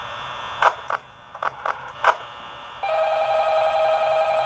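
A telephone ringing in the video game Five Nights at Freddy's, several short separate clicks and rings followed by a steady sustained ringing tone that continues to the end, clear and with no talking.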